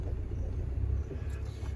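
A car engine stuck in mud strains in a low, steady, close rumble that holds at one level throughout, with no talking.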